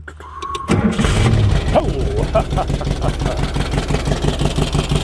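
A rebuilt 1974 Karmann Ghia with a new 1641 cc engine cranks briefly, then catches and settles into a loud, steady, throbbing idle close by, while a man gives a short exclamation.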